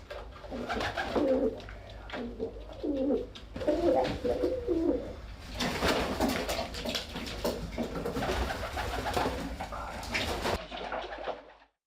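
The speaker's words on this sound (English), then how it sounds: "It is the only place in Europe where you can find and meet carrier pigeons bred by the French army" Carrier pigeons bred by the French army coo in a military loft, several birds calling in soft, overlapping rolling phrases, close by, with a rustling, busier stretch midway and no talk.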